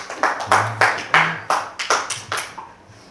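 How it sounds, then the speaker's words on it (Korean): A church congregation at a Christmas service claps for a child who just finished reading, a sparse group of distinct hand claps in an uneven rhythm, close and fairly loud, with a faint voice underneath. "우리 박수 한번 해주시죠"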